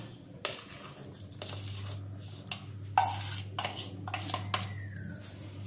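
Finger millet flour being stirred in hot ghee in a kadhai over a low flame: soft, scattered scrapes and clinks of a spoon against the pan, fairly quiet, over a steady low hum.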